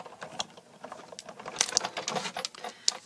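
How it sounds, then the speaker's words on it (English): A manual die-cutting machine cuts a white-embossed Bermuda Bay cardstock piece, producing close, irregular soft clicks and rustling taps with a few sharper snaps and no talking. "let's just go ahead and die cut that piece real quick"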